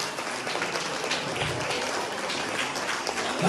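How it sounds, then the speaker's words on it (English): Audience applause for the director and crew after an ISKCON Ram Navami drama, a steady, moderately loud patter of many hands throughout. "Everybody give a big round of applause for Gopinath Acharya Prabhu and Krishna."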